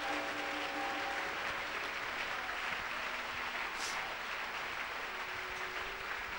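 A church congregation applauding, a dense, steady patter of many hands clapping at moderate distance, with a faint tone or voice lingering underneath.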